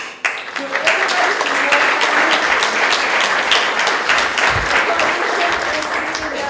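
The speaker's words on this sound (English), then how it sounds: "So I want to give a round of applause to everybody" An audience at an event celebrating a mural restoration breaks into dense, sustained applause that rises quickly and holds steady at a strong level. A few voices can be heard mixed into the clapping.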